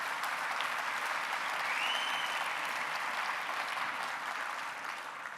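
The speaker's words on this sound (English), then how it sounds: "if you give these guys a round of applause" An audience at a corporate sales rally breaks into sustained applause for a team of testers, a dense, even wash of clapping that holds steady and fades slightly near the end.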